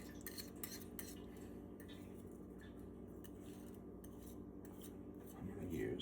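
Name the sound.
whisking eggplant korma mixture with a whisk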